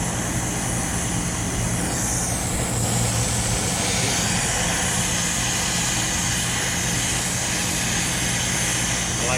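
A newly installed 3-ton AC condenser fan runs steadily, its broad, even whoosh like a strong wind with a low hum beneath, continuous and close for the whole stretch.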